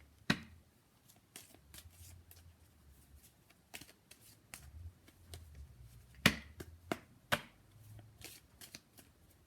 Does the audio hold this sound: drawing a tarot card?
yes